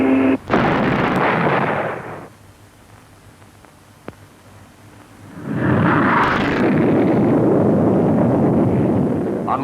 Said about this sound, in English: Starting to accelerate now. Coming up to the speed of sound now.